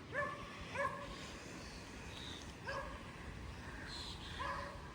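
Several distinct barks from a dog across the water, aimed at kayakers and paddle boarders near a dam trail in Ontario, coming in short bursts separated by pauses over steady outdoor background noise.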